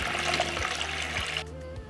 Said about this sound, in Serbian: Nalivam toplu vodu